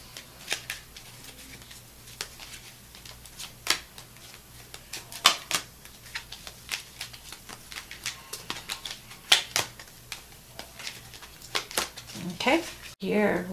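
Oracle cards from a Lover's Oracle deck are shuffled and drawn, giving crisp riffling flicks and sharp card snaps scattered through the stretch while a voice talks at intervals.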